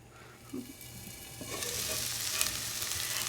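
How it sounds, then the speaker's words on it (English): Summer vegetables for a ratatouille browning in a pan, a steady close sizzle that swells louder partway through, with a faint stir or scrape early on. "We're just again browning it, and then we're golden."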